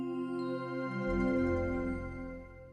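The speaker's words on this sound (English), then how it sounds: "And that's the sound of logging off." A computer operating system plays its log-off sound, a soft, sustained chime of layered tones that swells slightly and then fades, heard alone at low volume.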